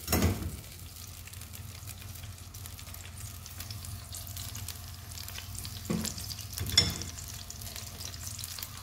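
Onions frying in hot oil in a pan, a steady close sizzle with a sharp burst at the start as they go in and a few stirring scrapes later.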